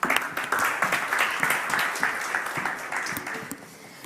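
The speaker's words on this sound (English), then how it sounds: "Round of applause." Audience applause at a panel discussion on digital-age threats, a dense burst of many hands clapping that starts loud and gradually fades over a few seconds, with faint voices underneath.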